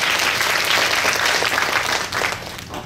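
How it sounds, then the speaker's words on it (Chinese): Audience applause welcoming a school principal to the stage at an education forum, dense and steady clapping from a crowd that thins slightly near the end. "掌声欢迎他"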